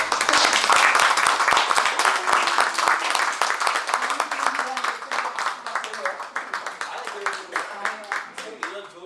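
Dense applause from a concert audience at a world art song and aria recital, loud and sustained at first, then thinning into scattered individual claps toward the end.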